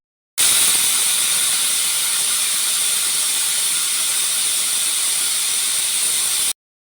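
A pressure cooker vents steam while potato rice cooks, a loud, continuous high hiss held steadily for about six seconds, starting and stopping abruptly, with no talking.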